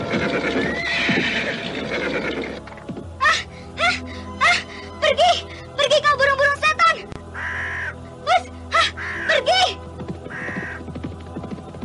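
Crows caw over a carcass near a village: a burst of harsh, repeated caws rises in the middle, mixed with a horse's whinny, rustling and a rider's voice.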